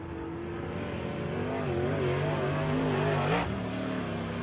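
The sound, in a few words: race cars at Lake of the Woods Speedway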